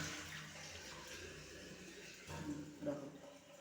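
Tap water runs into a kitchen sink in a steady, moderately quiet wash with a few louder splashes near the end, while people talk over it.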